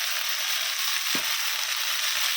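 Leafy greens frying in a pan with ginger paste for a Bengali shaak chorchori, a loud continuous hiss of sizzling oil with one dull knock of a utensil partway through.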